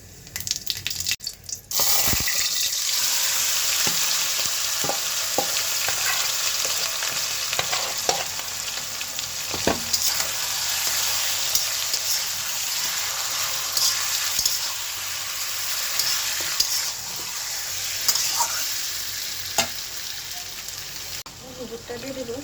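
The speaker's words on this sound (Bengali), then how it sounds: "জিরা ফোড়নটা দিয়ে দেবো" Cumin seeds tempering in hot oil in a home kitchen pan, a steady, close crackling sizzle that runs throughout after a brief quiet start, with a few sharp pops and clinks.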